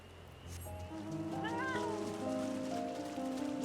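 A cat mount in Final Fantasy XIV Dawntrail lets out a drawn-out, wavering meow over layered sustained game music, moderately loud in the middle of the passage.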